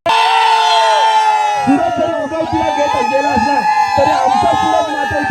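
Cheering crowd at a village cricket tournament final in Shebavane, with loud sustained whoops and shouts over scattered clapping, plus a long whistle-like tone at the start.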